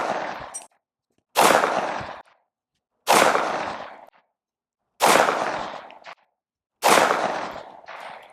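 Five loud unsuppressed shots from an M&P 5.7 pistol firing Fiocchi 40 grain ammunition, each a sharp crack with a short ringing tail, spaced roughly one and a half to two seconds apart, close by.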